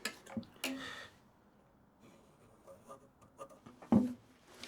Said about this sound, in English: drawing these lines on here